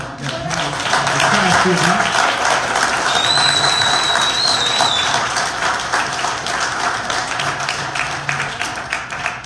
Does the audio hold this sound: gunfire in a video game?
no